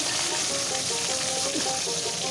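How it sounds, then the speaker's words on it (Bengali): Fish heads frying in hot oil give a steady, dense sizzle with faint crackles throughout, close and continuous with no talking. "এই যে মাছের মাথা ভাজতে শুরু করে দিয়েছি"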